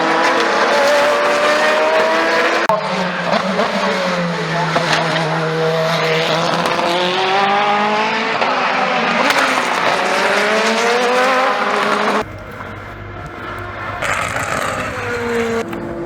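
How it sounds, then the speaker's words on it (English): Race cars lapping the Le Mans 24 Hours circuit at night, loud engine notes rising and falling as cars pass one after another, with gear shifts and a sharp drop as one fades before the next arrives, no voices. "the cars are still flying around"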